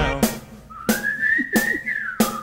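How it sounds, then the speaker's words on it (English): Whistling of a tune rises as one sustained, slightly gliding note over a song's regular thumping beat, with sharp percussive hits recurring about every two-thirds of a second. "Come on everybody and whistle a tune right now."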